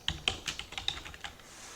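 Someone types a root password during an OpenSUSE installation on a computer keyboard, a quick irregular run of about a dozen close, crisp key taps that slows toward the end.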